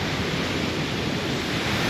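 Sea waves at Juhu beach, Mumbai, make a steady, loud broadband wash of surf, constant and unbroken, mixed with wind noise on the microphone.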